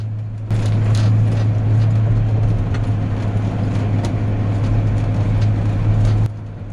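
Massey Ferguson tractor nearing the field headland as its machine is raised, a loud, steady low engine drone with a strong hum that starts abruptly, holds evenly, then drops away near the end.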